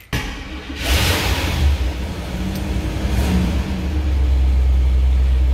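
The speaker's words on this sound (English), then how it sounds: "Great sounding engine on this Cadillac." A 7.7-liter V8 in a 1968 Cadillac Fleetwood Brougham cranks and fires up, catching with a surge then settling into a deep, loud, rumbling idle close by.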